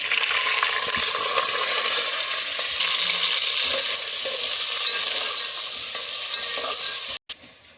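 Rice is tipped into fenugreek frying in a pan for soya methi matar khichdi. There is a loud, close, continuous sizzle with stirring scrapes, and it cuts off abruptly near the end.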